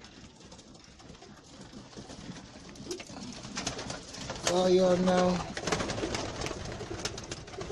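Rolling pigeons in a backyard loft, including feather-footed birds, give a low burst of cooing about midway through, close and fairly loud over steady background noise, with someone talking briefly.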